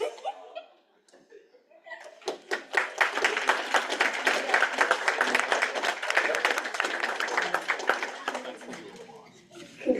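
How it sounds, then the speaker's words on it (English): Applause with laughter and chuckles fills a state senate chamber after a senator takes the oath of office. The clapping swells and holds for several seconds, with voices mixed in throughout. "The amount of applause following that versus usual was wild."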